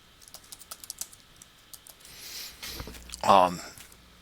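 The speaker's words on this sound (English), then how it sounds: "which we haven't written yet, so I have to type it" Keys on a computer keyboard tapped in a quick, light, uneven run, close and fairly quiet, followed by a louder brief rustle near the end.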